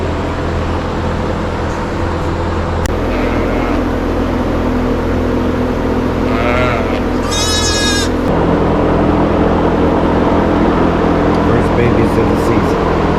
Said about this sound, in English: First babies of the lambing season.